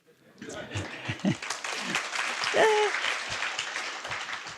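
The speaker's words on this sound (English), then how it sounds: "I didn't expect an applause there, but thank you" Applause from a conference keynote audience in a large hall, a steady wash of clapping that builds and holds for several seconds, with a speaker's voice talking over it near the start and again partway through.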